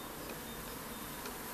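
A small swarm of honeybees buzzes in a dense, continuous drone, close and steady with no pauses.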